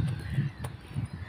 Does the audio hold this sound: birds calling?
yes